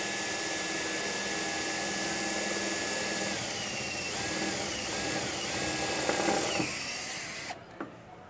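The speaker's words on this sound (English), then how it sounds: "Simply a matter of running your two large self-drilling, self-tapping screws." A power drill driving large self-drilling, self-tapping screws whirs continuously with a loud, gritty buzz, shifting slightly in pitch as it works, then cuts off abruptly near the end.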